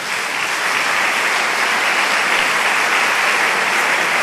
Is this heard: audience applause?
yes